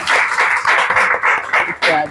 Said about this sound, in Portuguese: Palmas para ela, por favor.